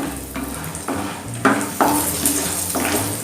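Fox nuts (makhana) roasting in a pan over a medium flame, stirred with a spoon: repeated scraping and rattling strokes against the pan over a soft sizzle, close and fairly loud.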